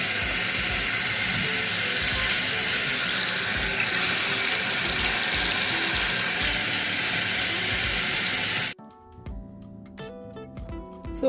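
Steady rush of tap water running over carrots in a kitchen sink, a continuous broadband splash for about nine seconds before the flow stops abruptly and a faint metallic clinking remains.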